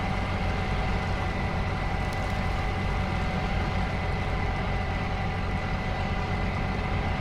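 A truck engine labors hard while driving through water in the off-road game Snowrunner, a dense, steady, loud droning rumble with a constant churning texture and no talk.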